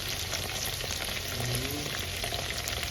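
Grasshoppers deep-fry in boiling oil, giving a dense, continuous sizzle and crackle that stays steady and fairly loud throughout, with no voices over it.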